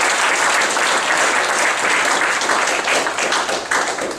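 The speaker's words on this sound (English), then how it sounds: "I think it's a round of applause." Dense, sustained applause from an audience at an awards event, loud and continuous throughout with no voices breaking through.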